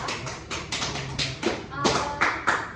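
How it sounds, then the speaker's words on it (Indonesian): A classroom applauds a student group with a few scattered, uneven claps and taps rather than full applause, moderately close, while people talk softly underneath. "Berikan aplaus kepada kelompok 2."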